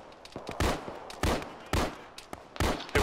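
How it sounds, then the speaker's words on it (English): Repeated gunfire in a military tactical shooter game, with about four loud, sharp bursts spaced roughly half a second to a second apart, each followed by a brief echoing tail, plus fainter scattered shots between them and no talking. "Take a tracer fire from the west, down the road."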